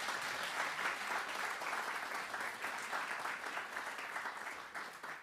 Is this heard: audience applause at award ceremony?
yes